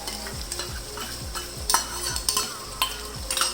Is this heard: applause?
no